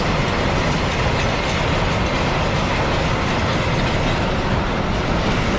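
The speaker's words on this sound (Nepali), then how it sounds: "रेल आयो" A train pulls into a station with a loud, steady rumble and rhythmic clickety-clack of wheels on rails, close by and continuous, with no voices.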